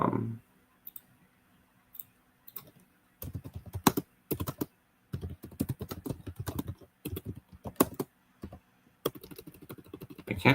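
Quick bursts of keystrokes on a computer keyboard, clattering in uneven runs separated by brief pauses, close and fairly quiet, with no voices.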